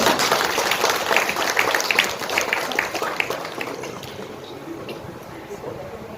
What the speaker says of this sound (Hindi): तालियां बजाओ